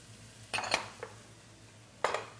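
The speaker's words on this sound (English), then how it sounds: "Keep the food moving in the pot." Carrots and squash stir-fried in a pot for a spring vegetable stir fry: a few close metallic clanks and scrapes of a utensil against the pot, in two short clusters with a faint tap between over a quiet background.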